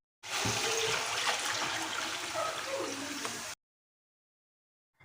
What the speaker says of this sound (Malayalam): ഇനി ഇതിലേക്ക് നമുക്ക് പാല് ചേർത്ത് കൊടുക്കാം